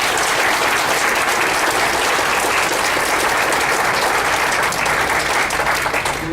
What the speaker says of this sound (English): Can we please give the candidates, all the candidates, a quick round of applause?